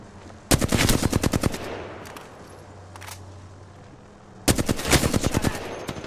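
Automatic gunfire rattles in two loud, close bursts in a video game shootout, each a rapid string of shots, separated by a quieter gap with a low hum.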